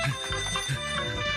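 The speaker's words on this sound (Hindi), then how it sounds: "अरे फोन आ रहा है।" A telephone ringtone sounds at a steady level, an electronic ringing pattern repeating for over a second, fairly loud with no voices.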